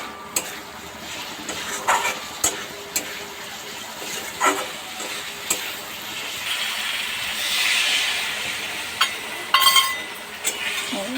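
Tomato and spice paste being stirred in a cooking pan for a yam kofta curry, a steady soft hiss and sizzle with occasional clinks of the spoon against the pan.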